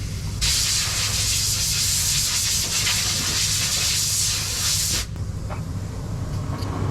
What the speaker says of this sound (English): if we put a bit of WD-40 on it, lubricate it up.